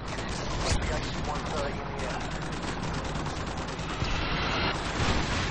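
Heavy rapid gunfire and booming blasts from gunship artillery in the video game Modern Warfare 2 roll on without pause, loud and dense throughout, with a voice faintly underneath.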